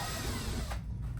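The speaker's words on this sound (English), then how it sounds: "let's first drill a test hole" A power drill bores a test hole into a ceiling for a mount installation, its motor whining loud and steady for a moment before easing off.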